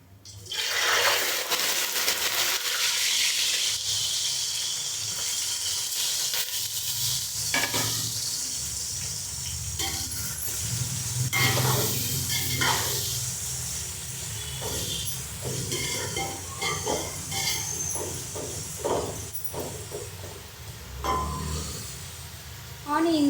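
Sliced onions hit hot oil for chicken biryani and fry with a loud, steady sizzle, with stirring scrapes and brief bursts of crackling throughout.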